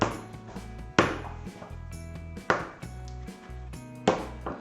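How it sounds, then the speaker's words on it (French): A knife chops a whole chocolate bar by hand on a board for mini muffins, with sharp, evenly spaced thuds and cracks, about one every half second, close and alone. "On va couper à la main."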